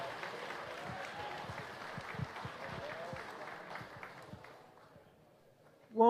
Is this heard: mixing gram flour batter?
no